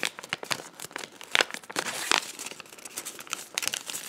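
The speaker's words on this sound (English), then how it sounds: "And then you're gonna fold it down again," Origami paper being folded and creased into a Star Destroyer, close-up crinkling and crisp crunching of paper in short bursts and longer rustles, with no talking.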